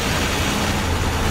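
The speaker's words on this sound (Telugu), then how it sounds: "వేరా బస్సు ఇంజిన్ సౌండ్ వినపడుతుంది గైస్" A passing Vera bus, a Sri Krishna Travels coach on the Nellore to Bengaluru highway, gives off a dense, steady engine roar with a low rumble, loud and close, with no break.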